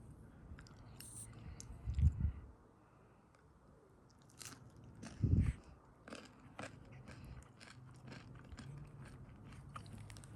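Crunchy tofurky is bitten and chewed close up, with two louder crunching bites among quieter, scattered chewing and clicking mouth sounds.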